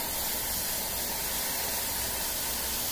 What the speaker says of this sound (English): Put my towel down here so you guys can see the little test spray